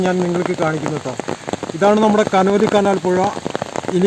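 Heavy rain pours steadily by the Canoli Canal river, a constant hiss of drops on the surface running beneath someone talking close by.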